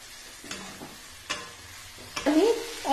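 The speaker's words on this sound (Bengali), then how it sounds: "এবারে এর ভেতরে আমি সেদ্ধ করা ডিমগুলো দিয়ে দিলাম, দিয়ে মশলার সাথে ভালো করে মাখিয়ে নেব" Boiled eggs are stirred into a fried spice paste in a pan for an egg and capsicum curry, with a sizzle under several scraping spoon strokes.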